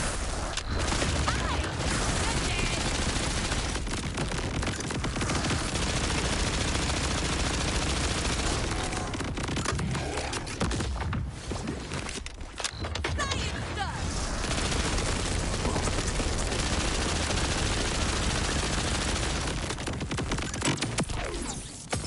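Dense, sustained gunfire from a weapon in Borderlands 4, a loud continuous barrage of shots and booms filling the whole stretch, with a voice talking over parts of it.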